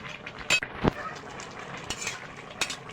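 Fish curry being stirred in a pan, with a few sharp utensil scrapes and clinks over a soft, steady sizzle, close and moderately quiet.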